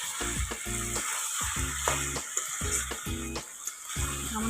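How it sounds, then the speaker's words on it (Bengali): Village-style country chicken curry frying in a pan gives a soft, continuous hiss, broken by repeated low humming pulses in an uneven rhythm, moderately quiet and close by. "এখনও ভাজা হচ্ছে"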